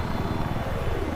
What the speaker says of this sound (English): There's a transport chopper.